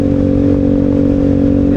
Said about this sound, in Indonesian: motor ini pakai knalpot bising